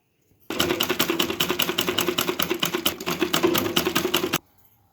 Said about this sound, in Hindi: अब मैं इस पे यहाँ पे सिलाई लगा दूंगी चारों तरफ इसमें